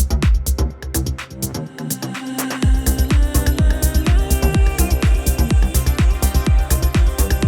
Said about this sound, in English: That's how you do reverse reverbs, an absolutely essential trick for any music producer to know.